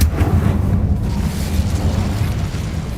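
A loud fiery burst from the Incendio spell in Hogwarts Legacy, a deep rumbling roar of flame that hits hard at the start and holds steadily for a few seconds.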